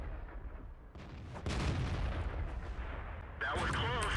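Artillery fire from a tank in World of Tanks, a sudden deep boom that rings out over ongoing engine rumble, followed moments later by a sharp, crackling report, loud and close.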